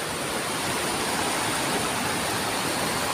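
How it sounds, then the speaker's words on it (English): Steady broadband rush of river water flowing close by, continuous and loud with no breaks, alone without voices. "So we're on the river."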